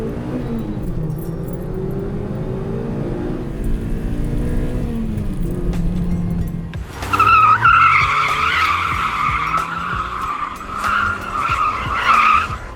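A supercharged Mazda MX5 Miata launches from 0 to 60 mph, its engine note climbing through the gears before a loud, sustained tire squeal cuts in and screeches over the revving engine.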